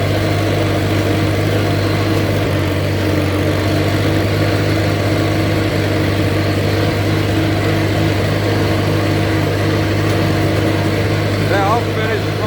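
An Allis-Chalmers C tractor engine runs at a steady, low, loud drone while mowing on a farm, continuous and close throughout with no pause.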